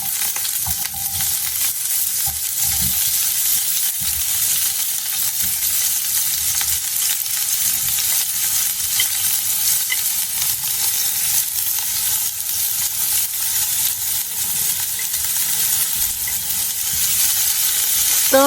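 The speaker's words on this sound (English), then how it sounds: "Heat the pot and add oil. Add the green beans." Green beans stir-fry in hot oil in a pot, making a loud, steady, close-up sizzle with a broad hiss that stays even throughout. Faint stirring movements run under it, and nobody speaks.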